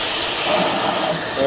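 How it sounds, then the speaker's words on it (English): Vacuum being let off a Power Wagon engine that had sat abandoned for 22 years, a loud close hiss rushing steadily for about a second and a half. "I let the vacuum off of it."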